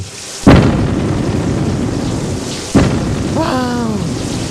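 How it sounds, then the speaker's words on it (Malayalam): Heavy rain pours steadily while two sharp, loud thunder cracks split the downpour, followed by a brief warbling tone near the end. "നല്ല മഴ ചുട്ട കോഴിയെ തിന്ന് വീട്ടിലിരിക്കേണ്ട സമയമാ"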